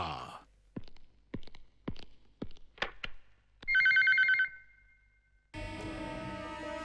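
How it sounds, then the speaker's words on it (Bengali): A telephone rings in a dubbed South Indian gangster film starring Rajnikanth, a loud electronic trill burst following a series of sharp clicks, then music swells in. "ফোন এসেছে"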